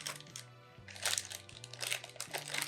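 Plastic wrapping crinkles in close bursts while a condenser microphone is unboxed, repeated rustling crunches rising and falling over a low steady hum.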